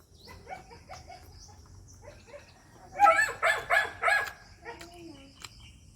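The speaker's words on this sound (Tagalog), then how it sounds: "Yun nga yung aso." A dog barks four times in quick succession at a home, fairly close, with insects chirping faintly in the background and quieter sounds before the barks.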